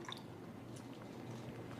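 Water poured onto a tea bag in a cup, a soft, quiet trickle with faint drips and squishy wet sounds, heard alone.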